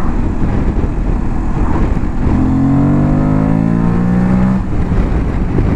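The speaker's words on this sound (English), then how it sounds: "That engine sounds lovely when it's on song." An Aprilia Tuareg 660 motorcycle engine roars and revs steadily, its pitch climbing through a long sustained pull before easing off, loud and close.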